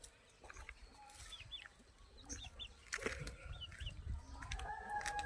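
Chickens in a poultry shed cluck and call intermittently, including a black hen and breeder birds, with faint squawks over low rustling and background noise, and no talk.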